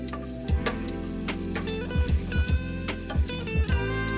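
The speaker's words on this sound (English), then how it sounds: "add the remaining half an onion. Saute until translucent. Add half a tablespoon of minced garlic and cook until fragrant" Onion and minced garlic sauté in a pan, a soft continuous sizzle punctuated by regular low thumps from stirring, with music playing underneath.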